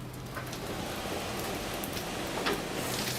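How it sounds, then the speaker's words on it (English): Steady rain falls outdoors as a dense, even hiss of drops with a few slightly louder patters, moderately loud and continuous, with no voices. "Make it stop raining."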